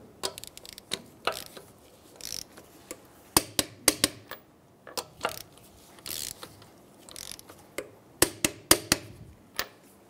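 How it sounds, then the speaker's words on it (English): A torque wrench ratchets while lug nuts on a 2007-2015 Mazda CX-9 are tightened in a crisscross pattern to 85 foot-pounds, giving quick bursts of sharp clicking in separate clusters, close and fairly quiet, with pauses between. "we're going to go ahead and torque down our lug nuts"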